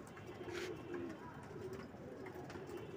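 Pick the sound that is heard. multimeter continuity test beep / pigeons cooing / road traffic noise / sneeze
pigeons cooing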